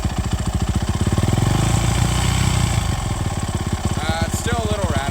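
A Yamaha dirt bike engine idles close by with a steady, slightly rattly chug of rapid, even pulses, a voice briefly audible near the end.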